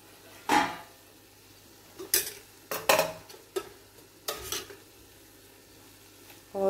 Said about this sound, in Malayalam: എന്നിട്ട് കുറച്ച് ഓയിലും കൂടി ഇട്ട് നമുക്ക് ഇതൊന്ന് ഫ്രൈ ആക്കി എടുക്കാം.